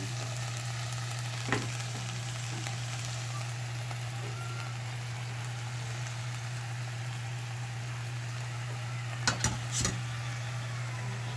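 Pancit canton noodles stir-fried in a pan, a steady low sizzle with a constant hum under it and a few brief clinks and scrapes of the utensil, no voices.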